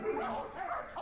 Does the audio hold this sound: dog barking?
yes